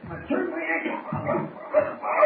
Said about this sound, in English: these dogs are barking